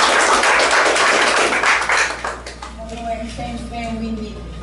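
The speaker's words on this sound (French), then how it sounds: "Sous l'applaudissement de l'Assemblée." A church congregation at a Sunday service applauds, a dense wash of clapping that fills the first couple of seconds and then fades away as a voice speaks over the quieter room.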